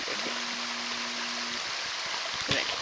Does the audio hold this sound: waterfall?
yes